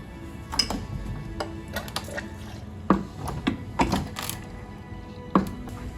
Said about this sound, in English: Shall I pour you one